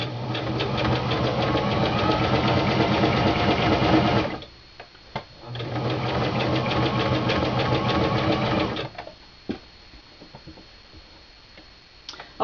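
A sewing machine stitches around a Christmas stocking in two long, loud runs of rapid rhythmic needle clatter, separated by a short pause, then stops with a few light clicks at the end.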